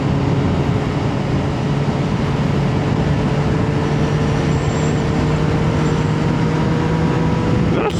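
Steady, loud wind roar and road rumble while riding a CFMOTO 675SS sport motorcycle, continuous broadband rush with no break.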